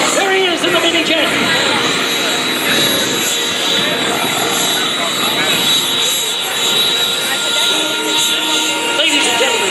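A mini jet flies at an air show, its steady engine roar sustained and fairly loud throughout, with an announcer's voice over the public address.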